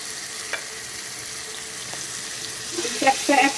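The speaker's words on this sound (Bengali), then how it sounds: "এই যে এখন আমি ভাজাটা শুরু করব" Tandoori chicken pieces frying in a large frying pan give a steady, close hissing sizzle throughout, with a few louder spits and a brief voice near the end.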